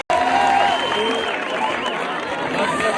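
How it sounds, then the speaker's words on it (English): A crowd at an awards presentation for a coach of the year applauds and cheers, a continuous wash of clapping with whistles and voices sliding over it, loud and sustained. "put your hands together for Ronald Shari from River Heights"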